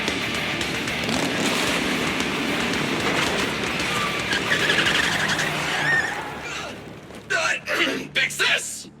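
A car drives off in the video game Zenless Zone Zero: a loud, rushing engine and road roar fills several seconds, then fades away, followed by short bursts of character voices.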